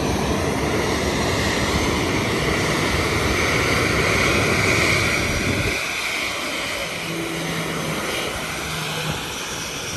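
Fixed-wing airplane passing extremely close overhead, a loud sustained engine roar that swells and then drops away abruptly partway through, leaving a fainter lingering hum.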